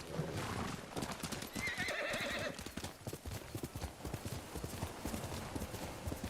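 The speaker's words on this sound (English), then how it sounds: "Come on, horsey." A horse in the video game Ghost of Tsushima gallops with a fast, steady clip-clop of hooves, and a loud, drawn-out whinny rises over the hoofbeats early on.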